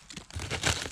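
A papery hornet nest cracks and crinkles as part of it is broken off by hand, a brief close burst of dry crumpling and tearing.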